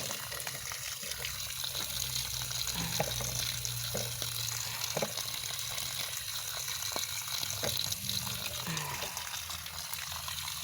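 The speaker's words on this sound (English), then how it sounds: "I gotta get this hose hooked up. Can get it nice and wet." A garden hose runs water steadily onto a freshly transplanted dwarf oyster plant in hot weather, a continuous gushing splash with occasional soft knocks and shifts.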